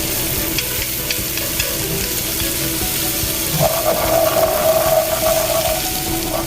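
Garlic fries in a pan for Filipino bihon noodles and is stirred, making a loud, steady, close sizzle with a continuous hiss and soft scraping throughout, with no voices.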